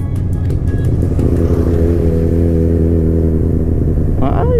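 Yamaha XJ6 motorcycle engine revving steadily and loudly up close, a sustained high-revving drone throughout with faint background voices.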